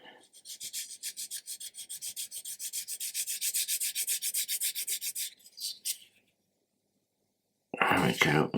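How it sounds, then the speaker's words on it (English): A sanding stick rasps rapidly back and forth on a small hard plastic part of a 1/200 Scharnhorst model kit, close and bright, stopping for a silent gap before a brief burst of noise. "So we're going to do that with a sanding stick."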